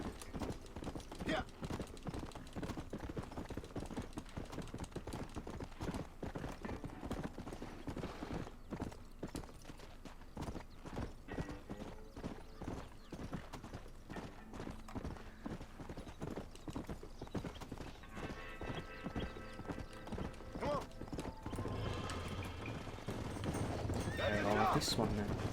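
Hooves clip-clop steadily as a horse runs in the video game Red Dead Redemption, with repeated whinnies and a louder neigh near the end, all under continuous talk.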